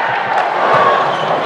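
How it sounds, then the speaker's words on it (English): Crowd at a men's college volleyball match between Hawaii and Emmanuel reacting to a replay of an overhead play, a steady broad roar of many voices filling the arena throughout a short stretch. "the crowd reacting to the replay of that one overhead"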